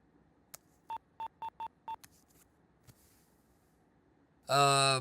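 A telephone number is dialed with six evenly spaced touch-tone beeps, quick and clean against a quiet room, followed by a loud burst of sound at the end.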